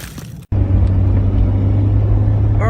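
A 1999 Jeep engine on a test drive gives a loud, steady low roar and rumble. It cuts out briefly, then returns and holds close and continuous.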